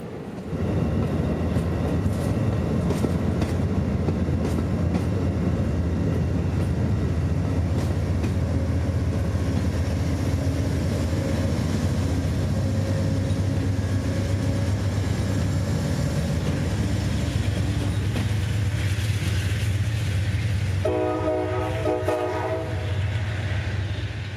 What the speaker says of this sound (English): document an Amtrak heritage unit shoving his train through the mechanical bells and diamonds of Ybor City